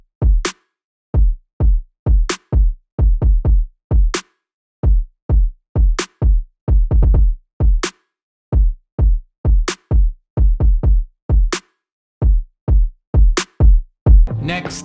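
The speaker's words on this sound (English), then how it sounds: "I made this sort of kick snare pattern just by itself" Programmed kick and snare drum pattern played alone, dry punchy hits in a steady repeating groove with short gaps, ending in a brief burst of noise.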